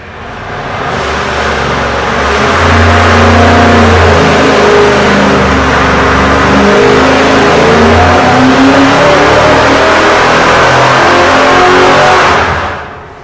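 A car engine on a dynamometer is held at wide open throttle while the machine loads it, climbing toward 5,500 RPM before being pulled back to about 3,000 RPM. The roar is loud, close and sustained, with rising and shifting engine tones and no talk.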